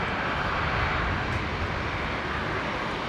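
A Saab airliner taxis past at Brisbane International Airport, its engine a steady, loud broadband roar that holds even and unbroken throughout, with no voices over it.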